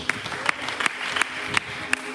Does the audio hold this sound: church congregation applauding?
yes